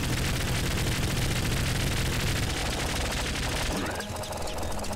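Dense, continuous gunfire from the top-down shooter Nuclear Throne on PC, rapid overlapping shots forming a loud barrage that thins slightly near the end, with a voice talking over it.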